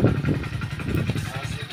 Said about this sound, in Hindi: तो ये अपनी बाइक स्टार्ट हो चुकी है